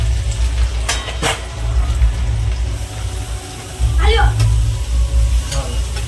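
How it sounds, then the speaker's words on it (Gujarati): Fresh turmeric hits hot ghee and fries with a loud, continuous sizzle, with low rumbling underneath and a few spoon clinks against the pan. A voice speaks briefly over the cooking. "ઘી ગરમ થઈ ગયું હવે નાખે છે હળદર"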